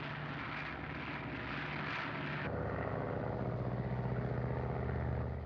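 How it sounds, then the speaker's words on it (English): A radio-controlled airplane from a 1937 film drones steadily in flight, a continuous engine hum that shifts in pitch partway through, with no talking over it. "The plane is now under radio control from the board here."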